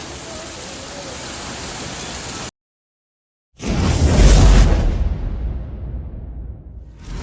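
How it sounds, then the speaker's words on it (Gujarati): Steady heavy rain hisses continuously, cut off by a brief silence, then returns as a louder, fuller rush before gradually easing. "ફૂલ વરસાદ ચાલુ છે હાલ"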